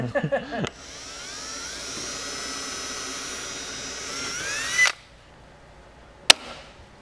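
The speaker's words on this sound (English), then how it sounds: "Use the 3/16 drill bit here. We're going to go ahead and drill this hole." A power drill fitted with a 3/16 bit whines steadily at close range while boring a hole during a strutless drag wing install on a Camaro, then cuts off abruptly, followed by a sharp click.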